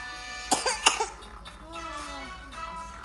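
A child coughs in a few sharp, close bursts at the start, followed by quieter voiced sounds and adult talk in the background.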